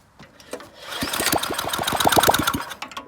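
A snowblower engine, primed by spraying into the spark plug hole, coughs and fires in a rapid, close, loud chugging run of pulses lasting about two seconds before dying away.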